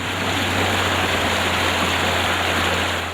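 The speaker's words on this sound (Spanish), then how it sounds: "Bienvenidos al río nuevamente." The Bogotá River flowing in a steady, dense rush of water, loud and close, unbroken throughout with no voices.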